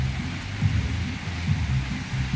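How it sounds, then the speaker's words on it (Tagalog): Heavy rain falls in a dense, steady hiss with a low rumbling underlayer, loud and continuous throughout with no voices. "Malakas ng ulan mga boss. Ayan o, napakalakas ng ulan."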